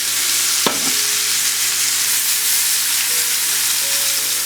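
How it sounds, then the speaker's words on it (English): Ginger tamarind marinade hits a hot pan of pork chops with a sharp initial splash, then settles into a steady, loud, close sizzle. "I'm going to add the rest of the marinade to the pan"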